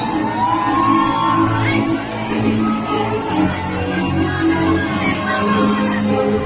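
Audience at the Duta Wisata Aceh 2017 pageant in Aceh, a loud continuous wash of cheering, whooping and shouting filling the hall, with an amplified voice carrying over the noise.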